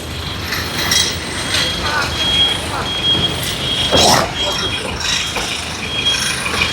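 A vehicle backs up in a queue of traffic, its reversing alarm chirping in repeated beeps over engine rumble and road noise, while people shout directions nearby.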